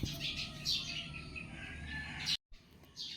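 Chirps and tweets of many birds outdoors in the morning, a lively overlapping chorus at moderate distance, briefly cut off and then resuming, with no talking over it.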